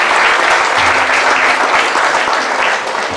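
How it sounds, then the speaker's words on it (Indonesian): Audience applause at a discussion event in the Mes 56 art space, a sustained burst of many hands clapping close by, dense and even throughout before easing slightly at the end. "kita beri aplaus kepada"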